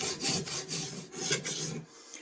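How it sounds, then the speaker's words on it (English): A file is drawn across the edge of a piece of wood in about eight short, close rasping strokes with an even rhythm, then stops, with no talking. "When you're doing wood like this, you want to just edge these off so that when you're filing, you don't pull a chip off."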